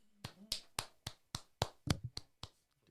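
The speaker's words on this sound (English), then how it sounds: "Let's give a hand clap for that." Hand clapping from a small group on a podcast, honoring a guest: about ten sharp, fairly close claps in a quick, slightly uneven rhythm that ends abruptly.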